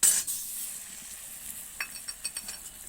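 A ground paste of onion, garlic, dried chili and black cumin drops into hot oil in a pan, starting with a sharp loud sizzle that settles into a quieter, steady frying hiss with a few soft stirring clinks.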